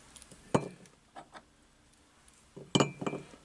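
Engine valves from a Reliant 850 trike being stirred in a container of acetone and ATF, two bursts of glassy metallic clinks and rattles separated by a quiet pause, close and fairly soft.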